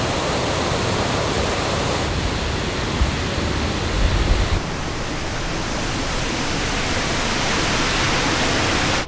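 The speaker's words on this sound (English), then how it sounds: "the upper fall of the White Meadow" Waterfall in the Brecon Beacons, the upper fall of the White Meadow: a loud, steady roar of cascading water close by, continuous broadband rush with slight shifts in tone as the position changes.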